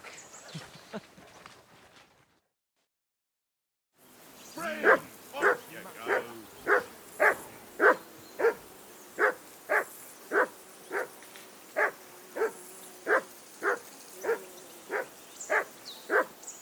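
A dog in the medieval game Kingdom Come: Deliverance II barks in a steady, evenly spaced series, fairly close and loud, after a brief burst of other sound and a short silence.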